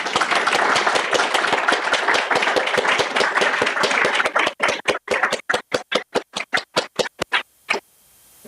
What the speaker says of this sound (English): I say another round of applause for them.